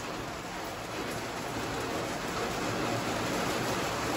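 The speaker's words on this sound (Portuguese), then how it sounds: "Tá chovendo bastante aqui, hein, gente? Estão ouvindo?" Heavy rain pours steadily outside, a dense, even hiss of drops on surfaces that holds unbroken for the whole stretch with no voices over it.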